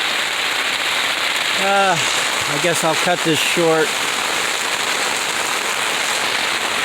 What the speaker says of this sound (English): Mother wanted to bring us a little rain.